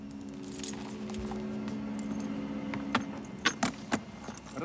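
A ring of keys jangles in a scene from an action drama series, with a few sharp metallic clinks and rattles that grow more distinct toward the end over a low engine-like hum.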